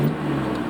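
A 1989 Nissan Skyline R32 GT-R engine idling, a steady low hum with a faint whir, heard alone for under a second.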